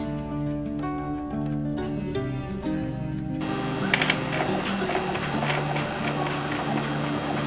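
An Epson L120 inkjet printer runs a nozzle check pattern, its print head shuttling with steady mechanical whirring and clicking, a softer rhythmic phase at first and then a denser, louder run of motor and feed noise, with no talking.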